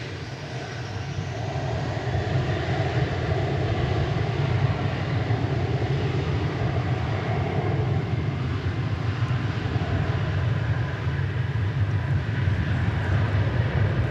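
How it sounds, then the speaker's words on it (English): An American Airlines Airbus A321neo arriving from Miami at DFW Airport, a steady broad roar of jet engines sustained at fairly constant loudness throughout, with no talk. "we've got American Flight 2500 coming in now from Miami in Florida"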